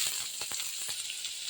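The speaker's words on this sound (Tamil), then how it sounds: "அப்புறமா வெங்காயம் சேர்த்து வதக்கணும்." Chopped onions sautéing in hot oil with mustard seeds for a chow chow kootu: a steady soft sizzle with a few faint pops and crackles, close and quiet, no talking.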